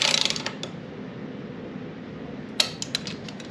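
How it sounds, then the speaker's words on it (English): A wrench tightens engine bolts on a 1969 Mustang Mach 1, giving short, faint ratcheting clicks in two brief bursts, at the start and again near the end, over a quiet room hum. "I'll just tighten them down from the center, one on each side from the center,"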